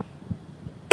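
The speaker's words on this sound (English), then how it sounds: "Still dealing with this cough that I've had for over a week now" A single short cough from a lingering week-long cough bursts out at the very end after near silence, close and abrupt.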